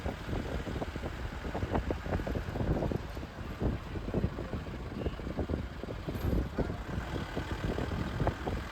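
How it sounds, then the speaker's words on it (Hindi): A UTC bus travels a mountain road beside the Bhagirathi river on the way to Gangotri, giving off a steady engine rumble and road noise mixed with wind buffeting. "इस सड़क पर सिर्फ शांति और अपनी गाड़ी की आवाज़"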